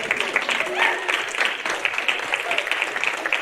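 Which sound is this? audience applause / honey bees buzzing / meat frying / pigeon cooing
audience applause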